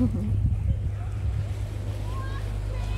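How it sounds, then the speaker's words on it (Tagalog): A boat on the sea off Tong Fuk Beach on Lantau Island gives a low, steady rumble beneath wind buffeting and lapping waves, with voices nearby. "may barko doon"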